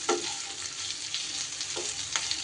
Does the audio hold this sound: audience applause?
no